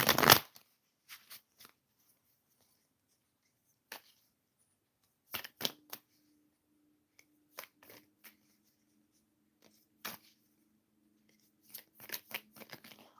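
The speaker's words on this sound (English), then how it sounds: "I'm shuffling the cards for Jay." Tarot cards being shuffled by hand in short, crisp riffling bursts separated by silences, close and quiet, with a faint sustained tone partway through.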